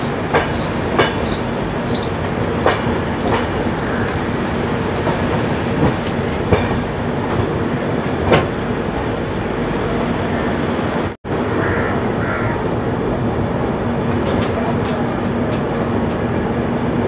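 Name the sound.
Puri Sealdah Duronto express train running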